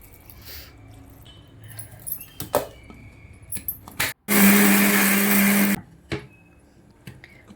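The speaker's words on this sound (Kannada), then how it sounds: "ಇದಕ್ಕೊಂದು ಅರ್ಧ ಈರುಳ್ಳಿ ಹಾಕ್ಕೊಳ್ಬೇಕು ಹಾಗೆ ಹುಣಸೆ ಹುಳಿ ಇದಿಷ್ಟು ಹಾಕಿ ಚಂದ ರುಬ್ಬಿಕೊಳ್ಳುವ" Mixer grinder whirs loudly for about a second and a half, grinding half an onion with tamarind for mushroom curry, between close kitchen clatter and handling sounds.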